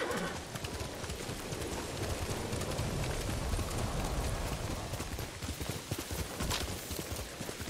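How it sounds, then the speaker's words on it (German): Horse hooves clip-clop at a steady trot in the Ghost of Tsushima game world, forming a continuous rhythmic patter over ambient game sound. "wenn man ein treues Pferdchen hat"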